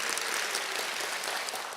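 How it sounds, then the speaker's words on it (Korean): An audience at a library book-concert lecture claps in thanks for a forensic medicine professor, a brief burst of thick, close applause from many hands, loud and continuous with no talk. "유성우 교수님께 감사의 박수 한번 부탁드립니다."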